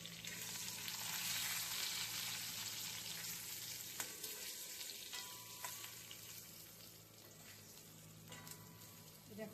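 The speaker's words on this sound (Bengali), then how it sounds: "এটাতে আমরা আগে থেকে কাটা ড্রামস্টিক ভাজার জন্য দিয়ে দিচ্ছি।" Drumstick pieces fry with turmeric and salt in a pan, giving a steady, fairly quiet sizzle with a few faint clinks from stirring.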